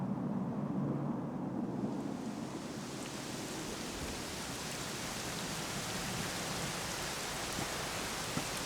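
Steady heavy rain with a low rumble of thunder in the video game Dragon Quest 11, a continuous dense hiss filling the scene with no voices.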